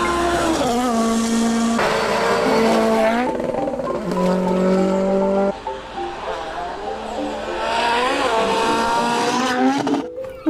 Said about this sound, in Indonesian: Yang ini ada mobil balap.